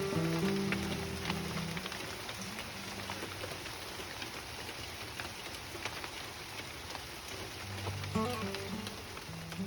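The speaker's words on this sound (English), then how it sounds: "I thought the rain stopped out there until it started hailing" Rain and hail falling outside, a dense steady patter of drops striking surfaces throughout, with occasional sharper impacts and low rumbling near the start and end.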